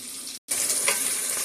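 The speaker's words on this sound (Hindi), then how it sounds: "अब इसमें हम थोड़ा सा पानी ऐड करते और इसको डांप के रख देते हैं।" Water poured into chicken liver masala in a hot pan brings a sharp hiss and sizzle, broken by a brief silent gap, then a bright steady frying crackle, close and alone.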